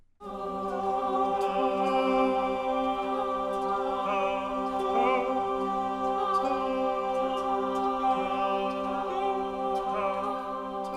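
Spitfire Audio choir voices playing the Light Crystals evolution articulation: sustained, softly blended sung chord with shimmering, shifting overtones and small breathy accents, steady and fairly quiet throughout, with no talking.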